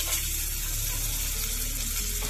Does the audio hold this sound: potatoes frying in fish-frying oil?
yes